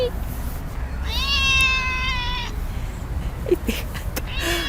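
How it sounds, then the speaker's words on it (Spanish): A cat gives one clear, drawn-out meow against a steady noisy background, followed by a few faint short chirps and a brief murmur of voices. "El gato se me ha prendido."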